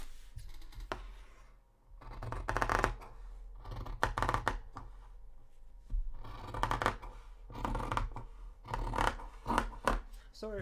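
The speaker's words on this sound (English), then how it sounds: "if you cut something like this, I need to have my scissors on the" Scissors cutting out a paper sewing pattern for a cosplay shirt, close crisp bursts of snipping and rustling paper in irregular runs separated by brief quiet gaps.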